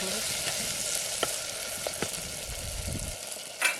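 Onion and potato pieces sizzle steadily in hot oil in a village kitchen, with a few soft stirring scrapes and clicks toward the end, fairly quiet and close.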